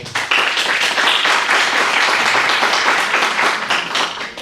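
Loud, dense applause from an audience at a university mathematics café event, a steady wash of many hands clapping together that holds evenly for several seconds before easing slightly at the close.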